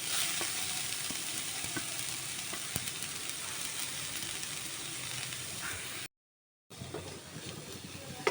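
Carrots frying in ghee in a pan over lowered gas heat, a steady close sizzle and hiss with faint stirring scrapes, cut by a brief silent gap near the end before the frying resumes.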